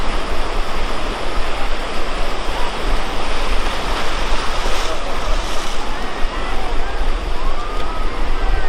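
Sea waves rolling onto New Digha beach in West Bengal, a continuous loud wash of surf with wind, swelling and breaking close by, crowd murmur faintly underneath.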